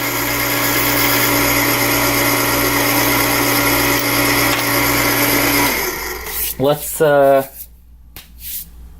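A Frankford Arsenal case trim and prep center runs steadily while trimming a brass cartridge case, a loud continuous motor whine with scraping that cuts off after about six seconds, followed by brief clattering handling sounds and quiet.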